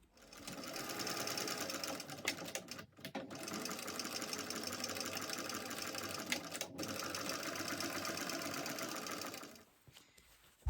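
A sewing machine top stitches through the seams of a mini backpack's front panel. It runs in a continuous fast whir that pauses briefly twice and then stops near the end. The sound is close and quiet, with no talk.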